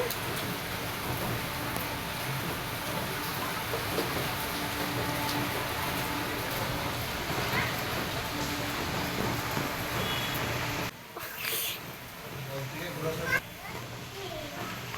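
Steady rain from Cyclone Remal falls outside an apartment block, a continuous, even hiss that briefly dips and shifts near the end.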